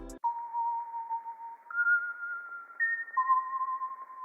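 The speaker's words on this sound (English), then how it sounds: "so the bell alone sounds like this" A soft bell sample from an R&B loop plays alone, a few sustained clear tones stepping between pitches, bright and even with no other instruments.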